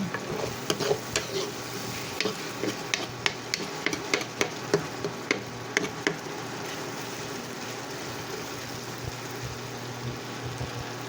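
Bacon frying for carbonara in a pan of butter and coconut oil. A steady sizzle runs throughout, with sharp repeated scrapes and taps of a utensil stirring it, busiest in the first half.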